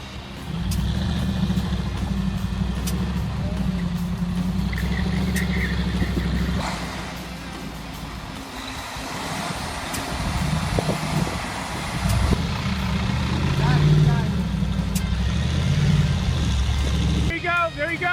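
A Ford 6.2-liter V8 truck engine pulls a rig on a winter ice road, giving a loud, steady low rumble that dips midway and then swells again, with faint voices in the background.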